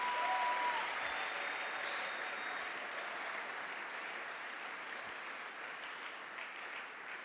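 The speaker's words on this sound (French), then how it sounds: "alors si tu es là, acclame très fort pour le Seigneur." Church congregation applauding loudly during a French-language worship service, a steady dense wash of clapping that holds for several seconds and fades slightly, with a faint cheer near the start.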